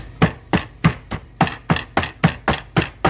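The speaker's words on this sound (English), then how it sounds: "So I'm breaking up the almonds." Almonds, a small handful, being broken up by banging in a kitchen, with a dishwasher running: ten sharp, evenly spaced hammer-like knocks, close and fairly loud, with no talking.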